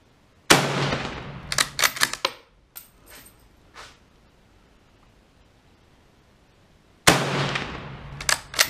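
Two loud, close gunshots ring out several seconds apart from a Carcano 1891 infantry long rifle in 6.5x52, each a sharp blast with a short echoing tail, separated by metallic bolt-working clicks and quiet.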